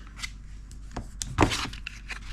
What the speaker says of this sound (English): all we're gonna do is we're gonna get a pair of scissors